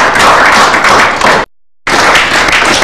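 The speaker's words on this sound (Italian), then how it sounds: "Vi salutiamo con un applauso a questa richiesta." A studio audience applauding on a Friulian TV broadcast, a loud, dense burst of clapping that cuts off abruptly into silence for a moment and then resumes just as strongly.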